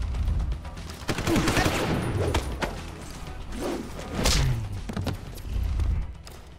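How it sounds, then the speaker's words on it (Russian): Gunfire in Deus Ex: Human Revolution – Director's Cut crackles in rapid bursts with heavy thuds and booms, loud and continuous, with a little talk mixed underneath. "Зачем-то я еще и выстрелил."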